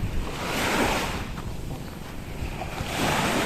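Sea waves washing onto a white sand beach lot, the surf swelling and receding in soft surges through steady wind noise on the microphone.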